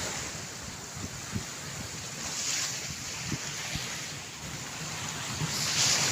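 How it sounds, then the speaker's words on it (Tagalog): Surf of the Pacific Ocean rolls and crashes onshore while strong wind buffets the microphone, a constant roar with a few louder surges. "ang lakas po ng hampas ng alon"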